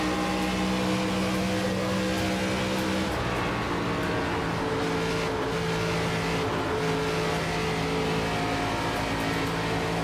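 NASCAR race cars roar steadily in iRacing, with engine drones from several cars layered close together and pitch shifting as they battle side by side on track, loud and continuous throughout.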